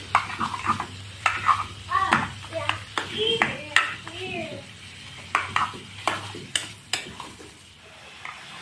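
Meat is stirred and fried in a kadai, with rhythmic spatula scrapes and knocks and a light sizzle underneath while someone talks over it.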